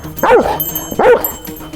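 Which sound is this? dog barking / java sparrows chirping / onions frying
dog barking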